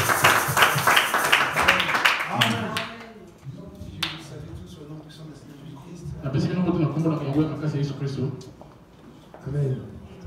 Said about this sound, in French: Applaudissez pour l'encourager bien-aimé.